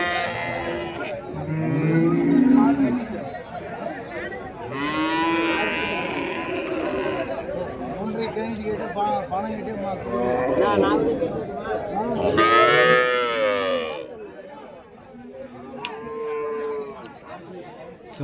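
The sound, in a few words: cart bullocks mooing at Uthangarai cattle market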